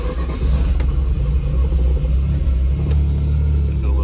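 A rotary-engined Corvette is driven on the road, its engine giving a loud, steady low rumble heard close up, with a slight swell partway through.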